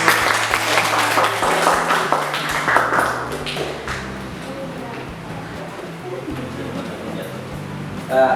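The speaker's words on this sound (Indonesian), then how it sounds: "Beri tepuk tangan untuk" Classroom applause in a school lesson, a burst of students clapping that fades after a few seconds, mixed with voices and talk that continue underneath and after.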